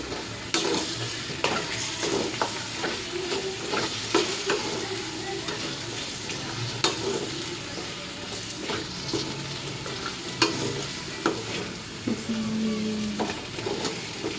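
Ivy gourd (dondakai) curry sizzling in oil, with steady frying crackle and intermittent stirring scrapes and clinks of a spoon against the pan, close and continuous throughout.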